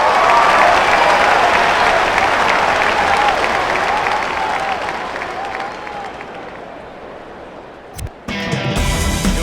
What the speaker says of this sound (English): he receives a nice ovation from this home crowd